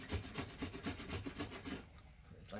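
A rasp shapes a yew wood bow in close, rhythmic strokes, about nine rough scraping passes in quick succession, loud and alone.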